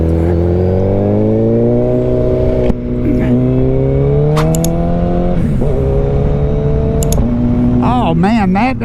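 A 2024 Suzuki Hayabusa 25th Anniversary motorcycle pulls hard through its gears, the engine tone climbing with each shift change, heard from the rider's position under loud wind rush.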